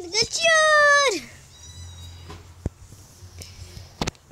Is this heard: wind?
no